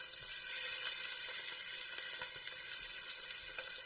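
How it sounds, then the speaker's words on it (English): Goat cheese and cranberry stuffed chicken breasts browning top side down in a hot pan make a soft, even sizzle with faint crackles throughout, quiet and with no voices. "I'm going to put the nice top side down first so we get a good brown on it. That's what you want to hear when you're browning food."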